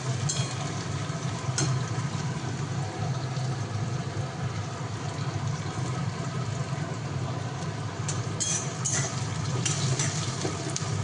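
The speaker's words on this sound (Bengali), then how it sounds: "চলুন পেঁয়াজটা ভাজা হোক ততক্ষণ" Onions fry in a pan with a steady low sizzle and hiss, joined by a constant low hum and a few brief clinks near the end, with no voices.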